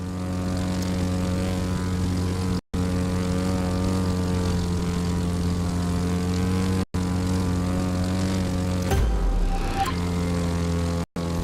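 A low-flying propeller airplane in The Crew 2, skimming treetops, drones steadily and loudly with a strong harmonic engine hum, briefly cut by short dropouts, with a low rumbling swell near the end.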